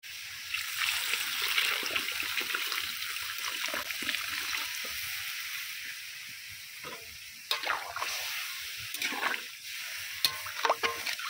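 Water pours and swirls into a pan of dalia (broken wheat) and moong dal that were briefly sautéed with vegetables for khichdi, a steady liquid trickle and stirring with a few sharper splashes near the end.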